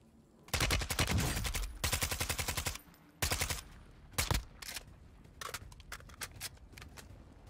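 Gunfire rattles in a video game shootout. It starts as long automatic bursts, then gives way to shorter, scattered volleys, loud and close, with quieter clicks in the gaps.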